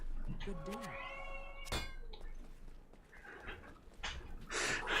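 A pet cat meows behind a door, with a rising, drawn-out yowl near the start and further cries over background game music. Someone talks over it, and a sharp knock or thud lands between the meows.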